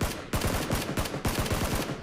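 Suppressing fire in a shooter video game: loud, rapid automatic gunfire rattles in several sustained bursts with short gaps between them, filling the whole moment.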